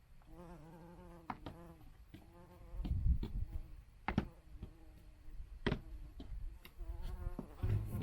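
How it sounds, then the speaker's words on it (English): Carder bee buzzing over Nepeta flowers in a garden in the Outer Hebrides, a close, wavering insect drone that rises and fades as it moves, broken by a few sharp clicks and light rustling. "There's a little moscarda bee going mad on the Nepeta."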